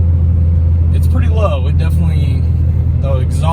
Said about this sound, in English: the exhaust definitely is rattling really bad